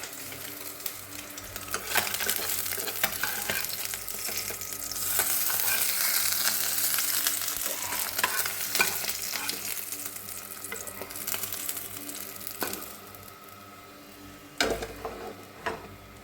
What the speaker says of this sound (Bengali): মাছ ভাজা হতে হতে তো অনেকটা হয়ে গেছে